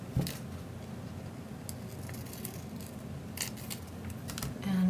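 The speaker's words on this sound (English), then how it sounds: "take one, cut it down the middle" Scissors snipping a planner sticker down the middle, a few soft, quick crisp snips over quiet room noise.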